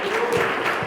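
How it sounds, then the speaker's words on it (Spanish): A church congregation gives a brief, subdued round of applause, a soft wash of clapping heard for under a second. "ese aplauso no lo vi con mucho entusiasmo"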